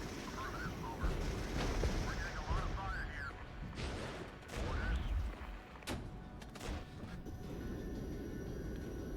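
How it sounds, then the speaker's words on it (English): Artillery fire in the Regiments war game lands as several heavy, booming blasts spaced a few seconds apart. Smaller battlefield noise runs between them, and a voice talks over the action. "Hopefully the artillery suppresses them enough that I can push them out."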